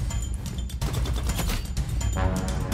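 Rapid automatic fire from the AUG rifle in the Roblox game Rivals, a dense, loud fusillade of shots running continuously throughout with no talk.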